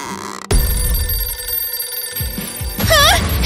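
A telephone rings loudly and steadily in a cartoon scene set in a billionaire family's estate, with a sharp sound at the start and a brief, rising chirp-like effect near the end, and no talking over it.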